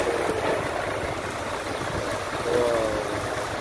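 Heavy rain pours down in Jeddah, a steady broadband wash of falling water and splashing, close and continuous, with a faint tonal whine briefly rising near the end.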